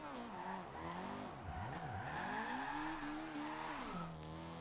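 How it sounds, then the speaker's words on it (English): A Honda Civic drift car in Forza Horizon 2 slides through a corner, its engine revving high with wavering pitch while tires squeal continuously, loud and close, with no talk. "It's actually drifting pretty decently as long as you keep the revs up."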